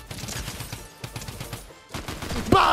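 Gunfire in a Fortnite battle, a series of sharp repeated shots in quick bursts with brief pauses, fairly close, followed by a louder, brighter burst of noise at the end, with no speech.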